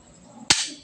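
A single sharp firecracker bang goes off close by at a temple festival, a sudden crack after near silence that fades quickly into a short ringing tail.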